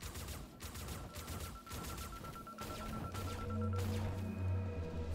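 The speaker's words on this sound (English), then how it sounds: "There was the dude shooting." An enemy fires at the player in the game Dolmen, a series of faint, distant pops tapping out at irregular intervals beneath humming sci-fi ambience.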